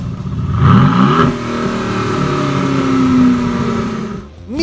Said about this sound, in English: It has a pair of twin turbo engines that sound like this.